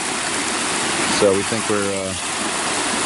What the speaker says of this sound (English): It's pretty flooded right now at the inlet of the 4-inch pipe.